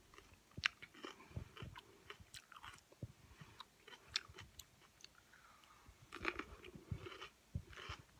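Orange bell peppers chewed close to the mic, with crisp crunching bites and wet mastication in irregular bursts, quiet and intimate with no talking.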